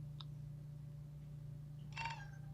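A single cat meow, fairly close, rising and falling briefly over a steady low electrical hum, with a faint tick just before it.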